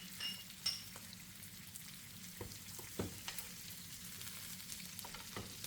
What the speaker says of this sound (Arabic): نحاول ناخد من الزبدة ونحط على الستيك